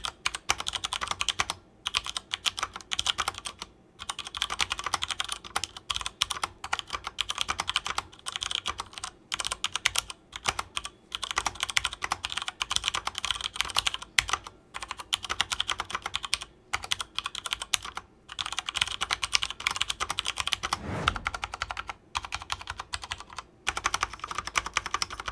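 Typing on a Durgod Fusion keyboard, a close run of steady, clicky keystrokes in bursts with short pauses, continuing alone for about twenty-five seconds.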